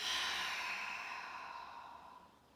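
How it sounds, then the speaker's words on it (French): One long, soft breath is pushed out through the mouth during a gentle yoga back-relaxation exercise, a close, airy exhale that slowly fades away. "On expire par la bouche."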